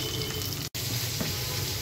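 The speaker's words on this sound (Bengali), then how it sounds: "এরকম লাল লাল মানে মাছের দুপাশটা এরকম লাল লাল করে ভাজা হবে।" Noola fish fry in oil until red on both sides, a steady moderate sizzle with one brief cut to silence partway through.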